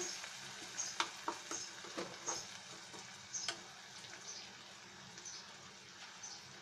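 Spice masala frying in oil in a pan, a soft continuous sizzle with intermittent clicks and scrapes of stirring, moderately close and fairly quiet, no talking.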